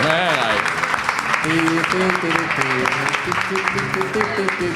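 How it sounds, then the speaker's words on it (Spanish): Audience applause at a live stage event, a steady wash of clapping that fills the whole stretch, with tonal sounds running underneath. "un aplauso para ella"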